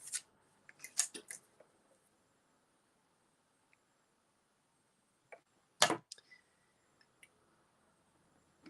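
Scissors snip through patterned scrapbook paper strips while making a quilt-strip greeting card, a few quick close cuts in two short bursts separated by a quiet pause, with no talking.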